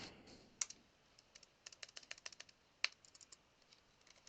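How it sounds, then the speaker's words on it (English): Keys on a computer keyboard tapped during a live coding session, sparse clicks at first and then a quicker run of short, close, fairly faint taps, with no voices. "you will see me typing again"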